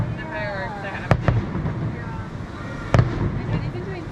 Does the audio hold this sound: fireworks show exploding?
yes